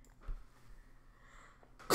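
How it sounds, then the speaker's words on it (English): A single loud, sharp human sneeze bursts out close by at the very end, after a brief sharp breath and near silence. "Oh gosh, sneezes, I tell you."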